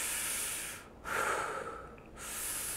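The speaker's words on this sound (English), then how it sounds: "Next, I'm gonna chest breathe so you can see what that looks like." Deliberate chest breathing, close and audible: a long airy breath, a pause, a deep harsh inhale or exhale, another brief pause, then steady breath noise again.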